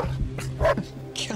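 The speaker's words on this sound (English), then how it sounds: "Stop barking." Dog in a survival video game giving a few quick yipping barks and whimpers in short bursts, with a voice close by.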